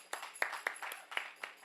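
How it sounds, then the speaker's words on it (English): Light, scattered clapping from a small festival crowd in Harrisburg, a handful of sharp hand claps at uneven intervals over less than two seconds, fairly faint. "Another round of applause for Mayor Helfrich."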